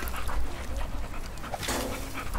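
A dog pants quickly and steadily in a video game, close and fairly quiet, with faint background game noise.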